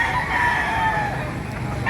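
A rooster crows once at a poultry market in Baliuag, Bulacan, a drawn-out call heard fairly close over a busy background of other fowl and faint noise.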